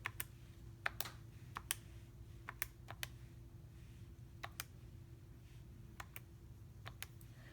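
Calculator keys are pressed one at a time, giving sparse, soft clicks at irregular intervals. They sound faint against a low, steady room hum.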